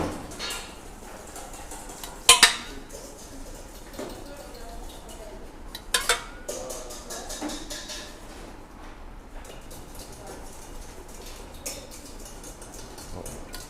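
A fork presses almond tuile batter flat on a baking tray, making soft scraping taps and a few sharp metallic clinks, close up, under a voice speaking intermittently.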